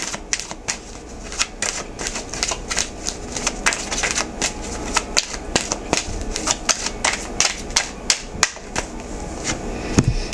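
Oracle cards being shuffled and pulled by hand, a rapid run of crisp close riffling snaps and taps at irregular rhythm, with no talking.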